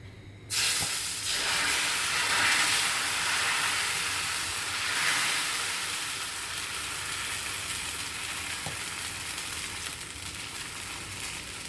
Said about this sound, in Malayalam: ഇപ്പം ഒരൊച്ച കേട്ടില്ലേ, ഇതിൻ്റെ ഷീന്ന് ദോശ ചുടുമ്പോൾ ആ ഒച്ച വളരെ നിർബന്ധമാണ്.